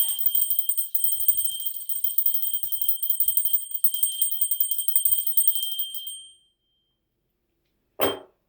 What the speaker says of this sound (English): Cover your ears if you don't like bells.